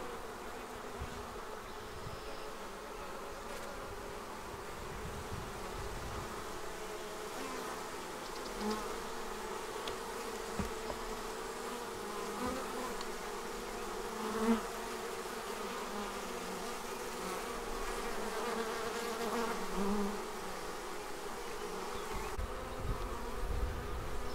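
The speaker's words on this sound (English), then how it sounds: "Now here we are back at the Apimaye 7-frame nucleus hive." Honeybees buzzing around an Apimaye 7-frame nucleus hive, a steady, dense outdoor hum with individual bees droning close by and passing throughout.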